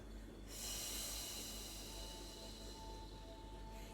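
During a stretching and meditation breathing exercise, one long, steady exhale rushes out close to the microphone and lasts about three seconds, with no talking.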